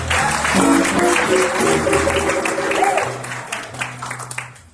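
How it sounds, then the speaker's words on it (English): A church congregation at a Sunday celebration service breaks into sustained applause, a dense wash of many hands clapping in a large room, with music playing underneath and the clapping slowly thinning out. "Nice a round of applause for Mike"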